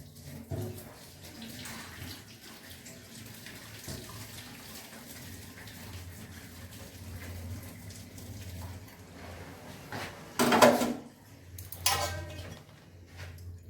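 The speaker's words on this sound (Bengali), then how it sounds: "বাঁধাকপির পাতাগুলো ব্লাঞ্চ করা হয়ে গেছে। আমি এবার একটুখানি জল ঝরিয়ে নিই।" Water drains off blanched cabbage leaves in a home kitchen: soft trickling and faint clinks of utensils, then two brief, louder splashing pours near the end.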